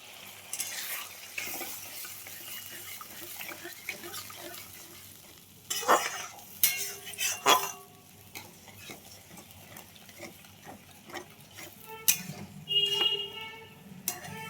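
Potatoes go into a pan of frying ground spice paste that has been loosened with water. There is a soft sizzle, and a spoon scrapes and knocks against the pot in scattered bursts. The sounds are fairly quiet and close.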